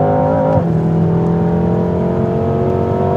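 A BMW M6 Coupe chases a BMW M5 around a race track, its engine roaring loud and close at steady high revs, with a brief gear-change dip near the start and no talk.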